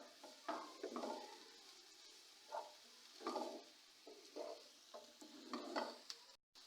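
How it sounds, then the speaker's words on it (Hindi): Ginger garlic paste fries in a pan for a chicken bun filling, giving a soft steady sizzle broken by repeated scraping stirs, close and moderately quiet, with no one talking. "अब इसके अंदर डालूंगी मैं अदरक लहसुन का पेस्ट। इसको भी थोड़ा सा ब्राउन करूंगी"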